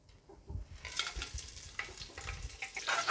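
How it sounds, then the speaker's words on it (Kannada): Whole spices (kasuri methi, bay leaves and fennel seeds) sizzle and crackle in hot oil as a tempering for chicken biryani. A soft stir opens, then a steady, fairly loud frying hiss with stirring scrapes runs to the end, with no talking. "ಇದು ಪೂರ್ತಿ ಒಗ್ಗರಣೆಗೆ ಹಾಕ್ಕೋಬೇಕು."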